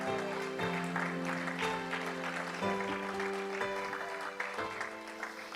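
A church congregation claps and cheers for the Lord during a Christmas service, with steady applause throughout and sustained musical tones underneath.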